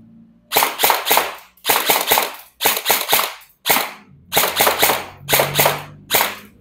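An airsoft gun fires in semi-auto mode, loud and close, each shot a sharp crack in quick clusters of three to five, with short pauses between clusters and no talking.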